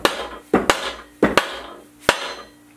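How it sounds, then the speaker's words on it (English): A hammer taps a crankshaft to square up its thrust surfaces during an Oldsmobile small block engine assembly, giving six sharp metallic knocks in uneven pairs, close and clear. "we're going to get out the hammer and we're going to make sure that we first hit it to the back"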